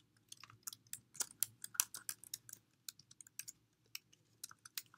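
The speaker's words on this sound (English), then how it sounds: "go ahead and delete the bracketed items and type in" Keys clack on a computer keyboard in uneven bursts of quick, light taps with brief pauses, close by and quiet, no voices.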